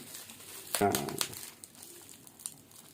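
Plastic packaging crinkling and rustling as a small MikroTik hAP Mini router is unboxed, with a sharp burst of crackle followed by lighter scattered rustles, and a person talking throughout.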